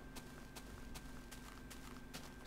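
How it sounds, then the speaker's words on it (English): Horses in the Minecraft video game clopping around in a steady run of soft, evenly spaced hoof-like clicks over a constant low background hum, with no talk. "Oh man, look at all those horses up there."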